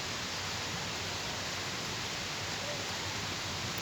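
Steady rain falling in Chittagong city, recorded from a home beside a large open space: a constant, dense broadband hiss with no distinct drops, even and unbroken throughout, with no voices.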